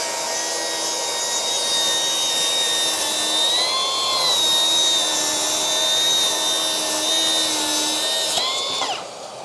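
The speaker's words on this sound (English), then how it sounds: "We're going to do a bevel cut, 45 degrees" A Milwaukee track saw bevels through plywood at 45 degrees, a loud steady whining cut held for several seconds before the blade winds down at the end, with no voices.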